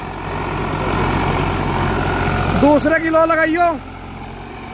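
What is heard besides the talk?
Eicher 551 three-cylinder tractor engine running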